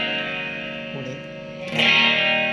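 Electric guitar through a Line 6 POD HD300 with delay and chorus, a sustained shimmering chord that swells into a fresh loud strum near the end, close and effected.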